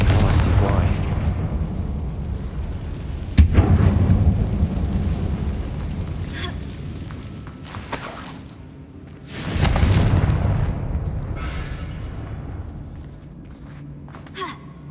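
Confringo, a fire spell in Hogwarts Legacy, bursts into two heavy explosive booms inside a closed mine shaped like a tomb. Each blast is followed by a rumbling tail, and a voice can be heard speaking around the blasts.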